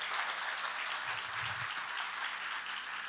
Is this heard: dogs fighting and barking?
no